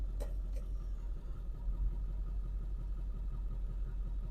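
A Cadillac engine runs just after being dropped into gear, a low, steady idling rumble heard faintly from close by, with no one speaking.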